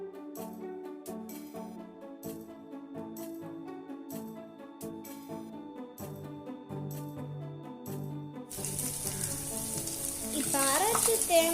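Baby bitter gourd sizzling in a pan with dry tuna flakes, salt, chili powder and cumin powder being stirred; steady frying hiss that swells louder toward the end, with music playing over the first part and no speech.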